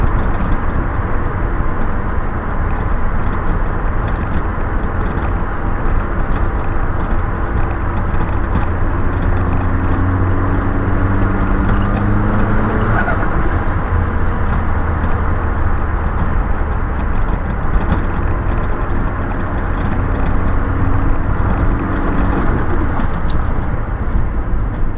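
A car engine idles after sitting for about six weeks on fresh fuel: a loud, continuous, even rumble that runs unbroken throughout, with some faint clanks and shifts in the background.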